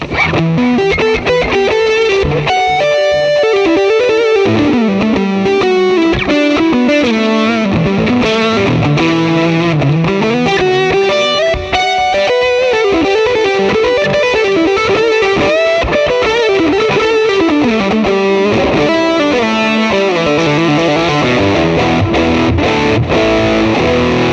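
A high-gain electric guitar lead played through a Fender amp setup, heavily distorted with effects, sustains loud and continuous melodic lines and bends with no talking.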